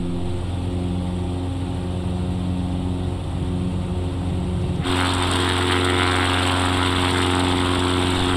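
X Cub light airplane engine throttling up to full power for takeoff, a steady loud propeller drone that jumps to a harsher, fuller roar midway and holds there.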